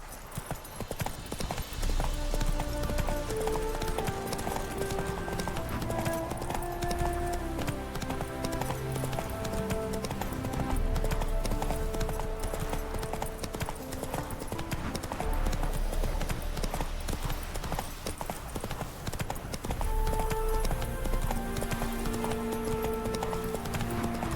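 A horse gallops in The Witcher 3 video game, its rapid rhythmic hoofbeats clip-clopping steadily throughout, with an occasional whinny over a layer of background game music.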